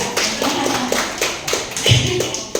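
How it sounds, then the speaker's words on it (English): An audience applauds a guest yogi at a hot yoga session, with a run of fairly close, uneven claps and taps lasting a couple of seconds. "give him a round of applause"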